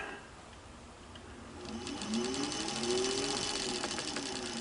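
The bobbin winder on a Singer 15-91 sewing machine spins, starting as a quiet mechanical whir and then rising into a louder, steadier buzzing hum with a gently wavering pitch, heard with no talk.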